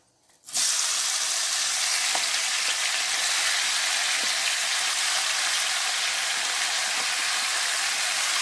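Half a kilo of tomatoes and curry leaves hit hot oil in a kadai, bursting into a loud, continuous close sizzle that holds steady with a few faint stirring ticks; no talk.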